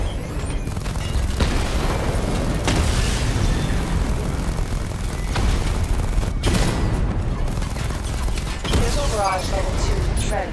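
A missile barrage in Batman Arkham Knight sets off a dense, continuous roar of booming explosions, with heavy rumbling bursts piling on top of each other at full volume throughout.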